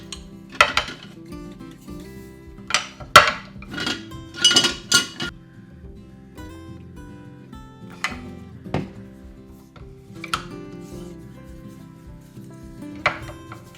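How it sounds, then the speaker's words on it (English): Wooden kitchen utensils clatter and knock together as they are picked up and set down for oiling, giving sparse hollow clinks and thumps, some bunched close together, over a quiet kitchen background. "our wooden utensils need a bit of love, so I'm going to oil the driest ones of these"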